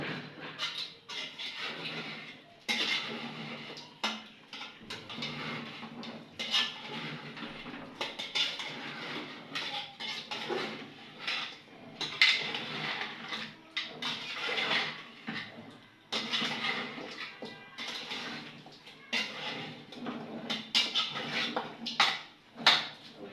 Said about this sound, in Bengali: এখন আমি এটা চুলায় বসিয়ে দিব। বসিয়ে দিয়ে নাড়াচাড়া করব।